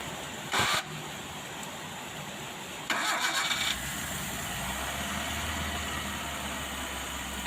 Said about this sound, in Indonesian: Coba aja lur, kita analisa dari suara mesinnya ya.